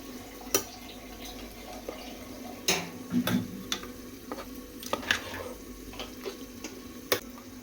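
Water goes into a pot of ghee chicken biryani and gets stirred in, with faint, scattered clinks and scrapes from a utensil over a quiet, low sizzle.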